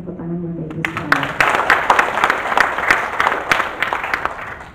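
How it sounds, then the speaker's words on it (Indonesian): An audience at an inauguration ceremony for a farmers' association bursts into steady, dense applause that lasts several seconds, preceded by a brief spoken announcement. "Tepuk tangan Bapak Ibu sekalian."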